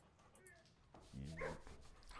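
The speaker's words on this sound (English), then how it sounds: "You can pet the dog in Blueprints." A dog in the video game Blue Prince gives a few soft yips and woofs, faint and brief, mixed with a person talking.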